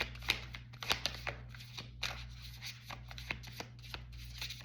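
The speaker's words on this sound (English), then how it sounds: "Sometimes it works better to shuffle it this way, sometimes it works better to shuffle it this way." A finicky deck of cards is shuffled by hand, giving a close, steady run of soft riffling flutters and sharp little slaps over a faint low hum.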